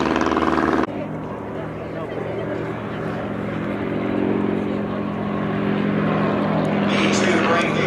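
Propeller engine drone from WWI replica aircraft, including Fokker and Sopwith triplanes, flying at an air display. The drone is loud and continuous and swells slightly, with a commentator talking over it throughout.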